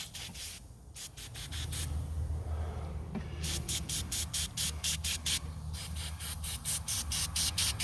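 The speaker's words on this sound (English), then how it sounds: "Let's spray this off." Battery cleaner is sprayed in rapid repeated bursts onto the engine of a 2006 Ford Freestyle, giving sharp hissing pulses in two clusters over a low steady hum, close and fairly loud.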